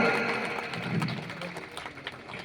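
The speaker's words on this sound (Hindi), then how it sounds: "खेडुली के लिए जोरदार ताली बजा" Applause from a crowd at a Lohar community award ceremony, with steady clapping held at a moderate level for a couple of seconds and fading slightly toward the end.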